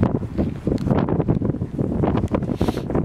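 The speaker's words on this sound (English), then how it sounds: "Super windy." Strong wind roars and buffets the microphone in a steady, dense rush on a dark night descent of Mount Fuji, with no voices.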